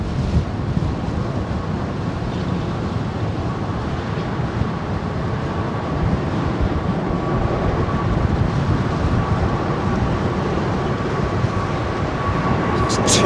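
A jet airliner with GEnx engines takes off at Heathrow, its engine roar broad, heavy and sustained at a moderate distance, rumbling steadily.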